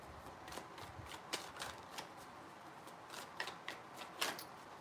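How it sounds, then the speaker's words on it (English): Tarot cards shuffled by hand, a run of crisp riffling bursts and soft taps, close and fairly quiet, repeated several times with no talking. "Three shuffles."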